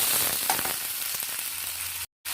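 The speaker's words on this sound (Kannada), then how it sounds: "ಟೊಮೆಟೊ ಸ್ವಲ್ಪ ಚೆನ್ನಾಗಿ ಫ್ರೈ ಆಗಲಿ." Tomato frying in a pan for a groundnut and potato sambhar gives a steady, close sizzle with faint stirring, then cuts out briefly near the end.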